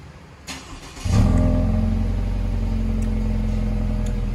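A Subaru Impreza GT STI fitted with an STI exhaust fires up after a faint click, settling into a loud, close, deep and steady exhaust rumble with no talking.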